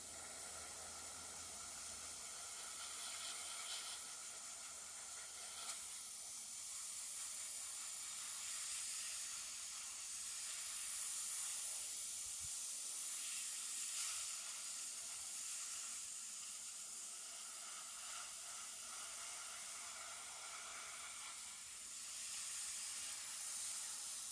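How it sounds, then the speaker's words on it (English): A steady, close airbrush hiss sprays paint onto a 1/2000 scale USS Missouri battleship model, a continuous airy spray with slight swells in intensity and no talking. "And again, airbrush."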